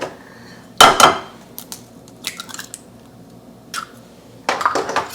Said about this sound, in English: We're going to crack 3 eggs